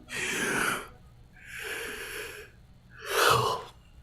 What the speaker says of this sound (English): Just a big yawn.